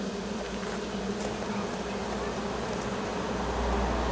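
A honeybee swarm settled on the ground hums in a dense, steady drone that holds at a constant loudness throughout, a continuous mass of wingbeats with no voices.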